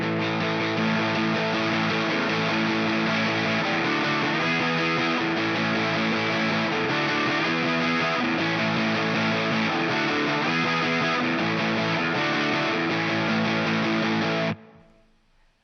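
Distorted electric guitar plays a song's build as a steady, loud, sustained chord strum for about fifteen seconds, then cuts off abruptly with a fading tail; no talking.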